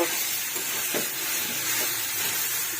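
Boiled chickpeas and potatoes tumble into a hot pan of oil and are stirred, giving a steady close sizzling hiss with soft scraping stir sounds and no talking.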